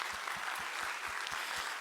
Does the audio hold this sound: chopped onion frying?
no